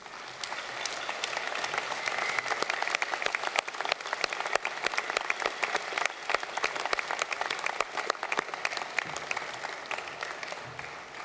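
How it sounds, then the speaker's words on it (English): Graduates at a Flinders University graduation ceremony give their guests a sustained round of applause in a large hall, dense and steady hand-clapping that carries on for about eleven seconds without a break. "offer them a heartfelt round of applause"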